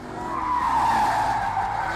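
A Chevrolet Corvette C8 spins its rear wheels, producing a sustained, loud tire squeal and skid that swells and holds steady for a couple of seconds under engine noise.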